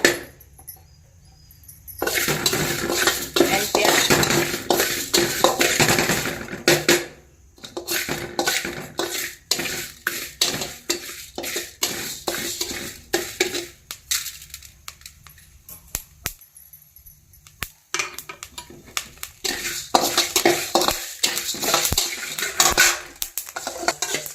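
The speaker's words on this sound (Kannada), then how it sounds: "ಇವಾಗ ನಾನು ಎರಡು ಎರಡು ಸ್ಪೂನು ಮೆಂತ್ಯ ತಗೊಂಡಿದ್ದೀನಿ ಅದನ್ನು ರೋಸ್ಟ್ ಮಾಡ್ಕೊತೀನಿ" Two spoons of fenugreek seeds are dry-roasted and stirred in a pan for a citron pickle, with irregular, close scraping and rattling of spoon against metal that continues in uneven bursts with brief pauses.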